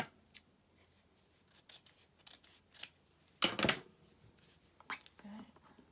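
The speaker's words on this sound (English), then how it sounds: "Let's cut this off." Scissors cut through paper while a collage journal cover is being decorated, making several short crisp snips and one louder, longer cut, close up and fairly quiet, with soft handling noises between them.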